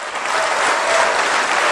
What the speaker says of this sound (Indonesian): Tepuk tangan untuk upline Anda